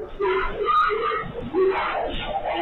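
A person screams repeatedly during a chaotic dog fight, with shrill, strained cries coming in bursts over about three seconds, sounding somewhat distant and mixed with other agitated voices.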